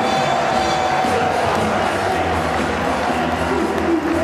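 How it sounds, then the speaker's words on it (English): Melbourne Heart supporters at an A-League match against Melbourne Victory roar after a goal, a loud, continuous stadium crowd cheer filling the whole stretch. "at least those Melbourne Hearts supporters have something to cheer at last"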